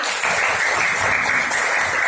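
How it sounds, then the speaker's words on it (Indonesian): Classroom applause for group five, a steady wash of clapping that runs evenly throughout at moderate loudness with no voices over it. "Tepuk tangan untuk kelima"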